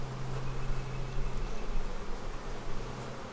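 Honey bees buzz in an opened hive, a dense, steady hum close up with a low drone running throughout, no talking.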